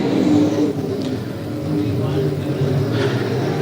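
Dirt late model race cars roar and accelerate together at the start of a race, a loud engine drone under a continuous announcer's voice.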